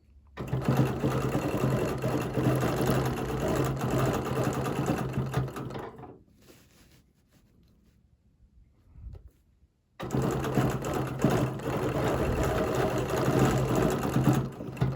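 A domestic sewing machine stitches a quilting design with a steady, close motor whir, stopping for a few seconds of near quiet before running again at the same even speed.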